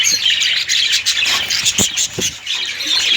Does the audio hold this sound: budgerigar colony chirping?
yes